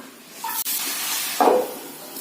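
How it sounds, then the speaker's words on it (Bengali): Spinach goes into a hot pan and sizzles in short hissing bursts, fairly close and moderately loud, with a clatter and a brief tonal squeak from the pan, and no voices. "আর দেখো পালং শাকটা দিয়ে দিচ্ছি"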